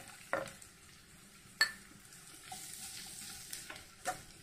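Onions with coriander powder frying in a pan for fish molee, stirred with a spoon, giving a steady close sizzle with a few sharp scrapes and clinks against the pan.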